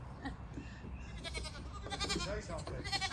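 A goat bleats repeatedly in short, wavering cries while people talk over and between the calls.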